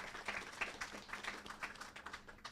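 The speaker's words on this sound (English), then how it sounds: "I want to give the speakers just another round of applause" An audience claps for speakers at a careers-in-law event, a modest, fairly quiet patter of hands from a smallish crowd lasting a couple of seconds.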